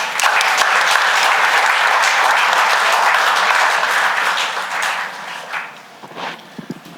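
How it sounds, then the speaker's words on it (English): Sustained applause from a large crowd at a program honoring a woman entrepreneur, loud and steady for several seconds before thinning out into scattered claps at the end. "Can we have a big round of applause for ma'am?"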